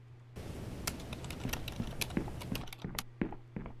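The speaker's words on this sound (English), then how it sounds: "I love the sound of the typing. That's so well done." Rapid keyboard typing from the video game Consuming Shadow, a steady stream of close, crisp key clicks with slightly uneven rhythm, heard alone.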